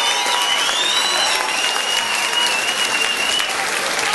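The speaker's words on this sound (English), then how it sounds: "A round of applause for both fighters." A cage-fighting championship crowd applauds both fighters after the contest, a dense, steady wash of clapping held at an even loudness throughout, with faint whistles rising above it.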